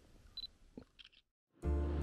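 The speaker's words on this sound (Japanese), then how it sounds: "シャッター押してもらえませんか" A camera shutter is pressed for a photo on a mountain hike, giving a few short, quiet clicks in near silence before a loud burst of noise at the end.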